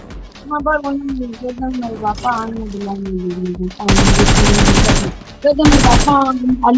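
In BGMI PUBG Mobile gameplay, loud bursts of automatic gunfire break out in two dense rattling volleys over someone talking, his voice continuing before and between the shots.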